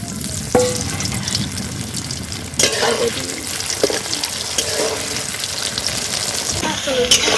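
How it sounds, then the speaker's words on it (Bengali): Chhana (cottage cheese) fritters deep-fry in oil in a wok, a steady close sizzle with occasional sharper spits and bubbling bursts throughout. "বড়াগুলোকে লাল লাল করে ভেজে নিলাম।"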